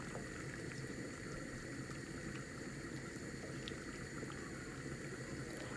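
Hilsa fish and taro curry simmers in a covered pot, giving a steady, continuous bubbling hiss that stays even and fairly loud throughout with no voices.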